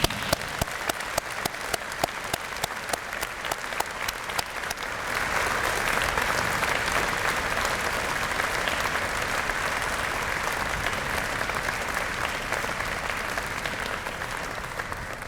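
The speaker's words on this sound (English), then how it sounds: "Graduates, please join with me in applauding the support that they have given you." A crowd at a university mathematics convocation applauds steadily and loudly for about fifteen seconds, scattered claps at first swelling into dense, sustained applause.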